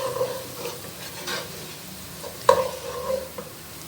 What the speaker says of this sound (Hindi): व्यूअर्स, प्याज को आप अच्छा सा गोल्डन ब्राउन कर लें। प्याज फ्राई हो गई है